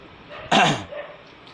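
A dog barks once, loud and sharp, outside a house, a single burst over faint outdoor ambience.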